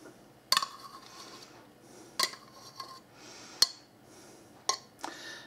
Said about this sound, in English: I'm going to mix all this up.